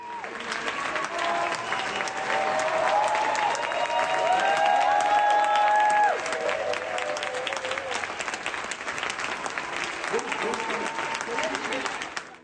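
A theatre audience gives a long standing ovation after a dance performance at an international arts festival in Guanajuato, with dense, sustained applause and crowd noise and a few voices rising above it throughout.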